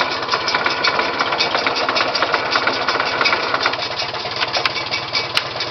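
A 1950 Farmall M tractor engine idles steadily in reverse, a loud, even, chugging putter close by with no talk over it.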